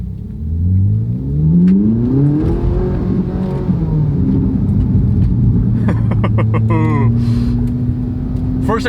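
Ferrari 458 Italia with a naturally aspirated V8 and seven-speed dual-clutch gearbox pulling away in first gear in sport mode, its engine rising in a loud, climbing rev with a rumbling whir, while someone talks over it.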